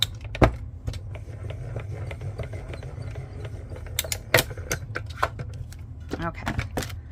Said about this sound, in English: I always like to kind of stagger these plates so it feeds through the machine a little bit easier